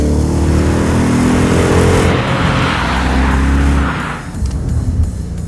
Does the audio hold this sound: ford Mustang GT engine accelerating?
yes